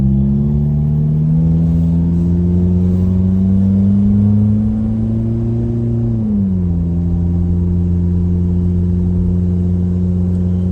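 A vehicle towing a trailer that is used for hauling manure accelerates uphill with a loud, steady, close engine drone. The pitch climbs gradually, then drops sharply at a gear change and holds steady afterward, with no voices.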